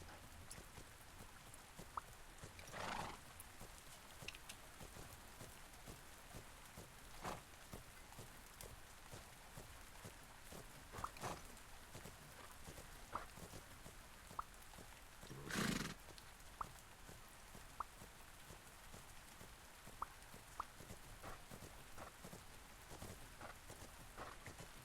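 Soft, regular hoof steps of a horse walking in a video game, low and steady against a faint hiss, broken by a couple of louder sudden bursts; no one talks.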